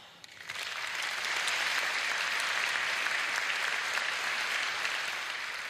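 An audience at a laureates' concert of an international song festival breaks into applause that swells quickly and holds as a steady, fairly distant wash of many hands clapping.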